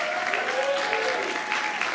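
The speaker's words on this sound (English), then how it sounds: "give you a big round of applause" Church congregation applauding to welcome visitors during a morning service, continuous dense clapping from a crowd with a faint voice over it.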